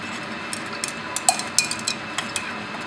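Light glass stirring rod clinking against a glass vessel while silver nitrate dissolves in water, a series of small, sharp ticks at irregular intervals, faint and close, with no talking.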